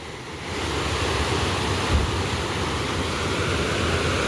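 Fast-flowing water in the Bhakra canal at Khanauri rushes steadily and loudly, a constant broad roar with no talking over it.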